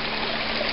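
Creek water runs hard and steady past debris, including an old piece of refrigerator, a dense, continuous close rush of flowing water with no pauses.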